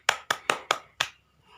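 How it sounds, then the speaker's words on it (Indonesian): A class of primary school pupils claps hands in five crisp, separate claps with a steady rhythm, close and fairly quiet, followed by a brief hush. "Ya, beri tepuk tangan."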